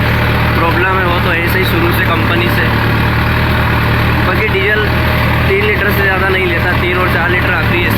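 A Mahindra Novo tractor engine runs steadily with no load in medium range fourth gear on a farm field, a constant loud drone throughout, with someone talking over it.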